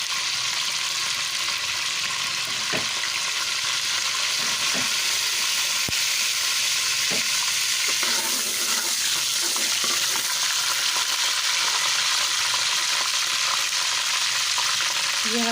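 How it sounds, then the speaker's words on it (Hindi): Cumin seeds frying in hot ghee in a kadhai, a loud steady sizzle throughout with occasional faint clinks and stirring. "अब मैं इसमें डालूंगी ये जो मेरे पास ज़ीरा है, इसको कढ़ाई में डाल दूंगी। ज़ीरे को हल्का सा हम ब्राउन कर लेंगे।"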